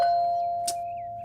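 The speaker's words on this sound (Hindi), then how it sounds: "देख घंटी बजी है, दरवाजा ही खोल दे।" An electronic doorbell rings indoors with a single sustained chime tone that slowly fades, and a short click partway through, no voices.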